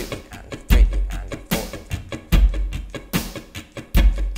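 An electric guitar strums the verse of a song in steady 16th notes over a drum beat. The strums are close and rhythmic, with heavy kick and snare hits punching through at regular intervals.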